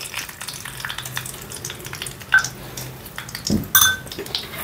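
Gram flour roasting in desi ghee in a pan over a low flame gives a soft, steady sizzle, with a few sharp clinks of a utensil against the pan.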